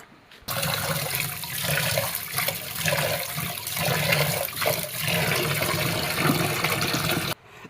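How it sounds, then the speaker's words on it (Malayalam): Grains being washed by hand in water inside a pressure cooker, with a steady swishing, sloshing wash of water running almost continuously at close range and no talking. "ഇതിൽ തന്നെ വൃത്തിയായിട്ട് ഞങ്ങൾ കഴുകിയെടുക്കാം"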